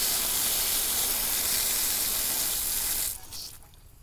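Water rushing loudly through an irrigation hydrant as its valve wheel is opened fully, a steady close hiss that drops and thins out near the end.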